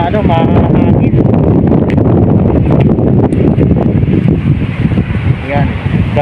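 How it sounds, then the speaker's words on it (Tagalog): Strong seaside wind on Macapagal Boulevard buffets the microphone in a constant roaring rumble, with a voice speaking faintly underneath at times. "Mahangin."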